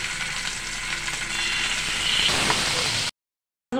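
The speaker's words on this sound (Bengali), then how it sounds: "বাকি মাছগুলি ভেজে নেব।" Small desi rohu fish fry in hot oil in a pan, a loud, steady, dense sizzle that continues for about three seconds and then stops abruptly.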